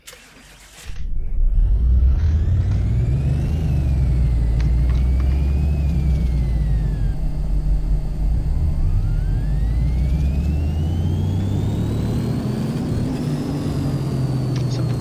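A car engine in Car Mechanic Simulator 2018 starts and revs hard on a dyno. It is a loud, continuous roar that climbs and falls through several rising pitch sweeps and holds steady for the rest of the run.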